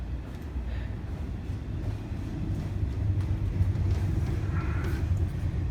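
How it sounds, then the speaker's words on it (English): A train passes close by outside a house window, heard from indoors as a steady low rumble that swells in the second half and stays muffled and continuous. "that's what a train looks like going past the window"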